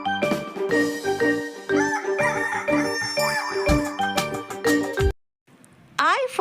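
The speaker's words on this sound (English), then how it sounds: "H for hen" A hen or rooster crowing effect rings out within a bright children's alphabet song, with synth music and a singing voice around it before a short pause.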